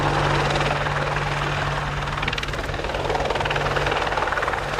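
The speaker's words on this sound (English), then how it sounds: "the British Army Apache attack helicopter." A British Army Westland Apache AH1 attack helicopter hovers or flies nearby during an air show flying display, its rotor producing a loud, continuous chopping roar with a steady low hum throughout.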